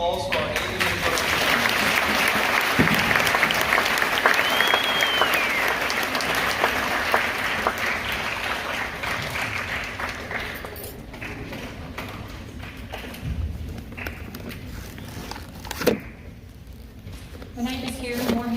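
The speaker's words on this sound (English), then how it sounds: "let's give a round of applause for our 8th and 1st." Sustained audience applause at a school awards ceremony for seventh to eleventh graders, loud and steady at first, then thinning out with a few louder claps near the end.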